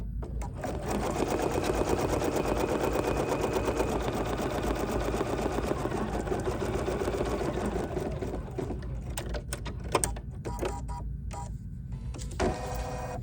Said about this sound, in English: And now I'm just going to stitch this next color, because this is the outline of my design